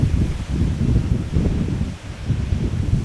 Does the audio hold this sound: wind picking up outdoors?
yes